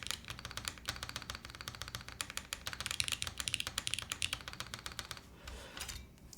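Rapid, uneven clacky keystrokes tapped out on a custom-built mechanical keyboard, close and dry, with bursts of fast typing and brief pauses, no voices.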